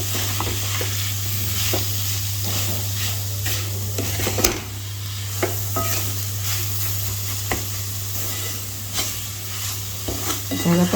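Khoa being roasted and stirred in ghee in a pan: a steady soft sizzle runs throughout, with intermittent scraping and clinks of a spoon against the pan, close and alone with no talk.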